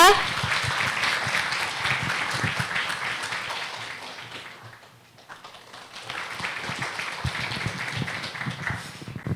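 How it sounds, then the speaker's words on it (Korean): Audience applause at an AI-and-education conference at the National Assembly Library, a dense steady clapping that dips briefly midway and then swells again, with some talk mixed in. "여러분 큰 박수로 이명호 국회 도서관장님 무대 위로 모셔보겠습니다."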